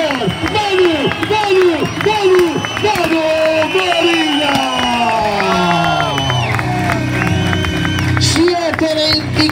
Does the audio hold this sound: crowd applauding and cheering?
yes